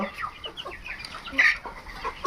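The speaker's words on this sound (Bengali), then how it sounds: "দেখেন এখানে প্রায় আমার 20টার মতো মুরগি আছে, দেশি বিদেশি মুরগি মিলে।" About twenty local and foreign breed chickens on a small farm cluck in short, irregular bursts, close by, with one louder squawk midway.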